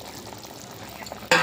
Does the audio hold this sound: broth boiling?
yes